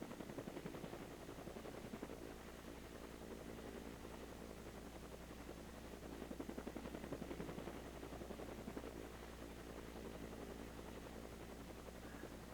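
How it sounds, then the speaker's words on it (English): Steady, dense broadband rotor noise with a continuous low throb from an Apache helicopter hovering nearby over Folly Beach, loud and unbroken throughout. "Helicopter, the Apache helicopter in a hovering position"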